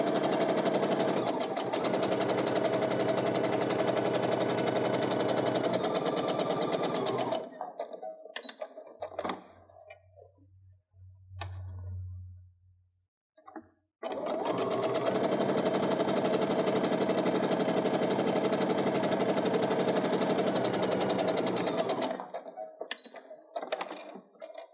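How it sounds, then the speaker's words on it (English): A sewing machine stitches a scant quarter-inch seam down the sides of quilt triangles in two long, steady runs with a quiet pause between them, a lower hum and some handling clicks filling the gap. "Now I'm going to sew my scant 1/4 inch seam down both sides."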